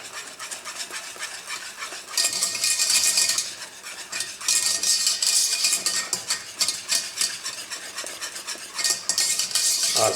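A spoon stirs thickening pastry cream for a frangipane galette des rois in a pot, with steady scraping and clinking against the metal in loud bursts that continue throughout, no voices.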